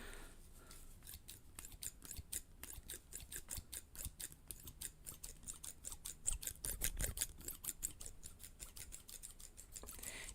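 Scissors snip steadily through paper or craft material, a long run of quick, crisp close cuts in an even rhythm, quiet and with no talking.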